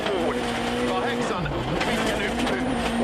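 Sebastien Loeb's rally car enters a gravel stage at WRC Argentina 2011, its engine roaring loud and continuous with pitch dropping and rising as it shifts and changes speed, under commentary.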